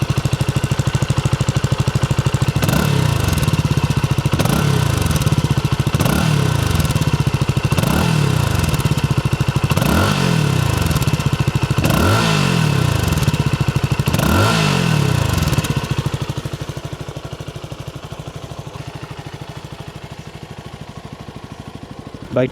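A CFMOTO 300NK motorcycle engine runs close and loud with a deep bass note, revved in a series of about six rising and falling blips before settling back to a lower idle.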